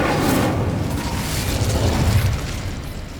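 An Incendio fire spell blast in Hogwarts Legacy: a loud, sustained roaring burst of fiery noise with a deep rumbling low end that holds steady for about three seconds.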